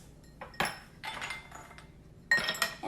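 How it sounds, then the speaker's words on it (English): Ice cubes clink into a glass of blended mint lemonade in several sharp, irregular knocks, close by with quiet pauses between them. "I'm going to put some cubes of ice"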